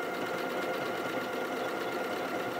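Domestic embroidery sewing machine stitching a snowflake design on a continuous design roll, a steady close mechanical whirr with a fast even needle rhythm running throughout, no talking.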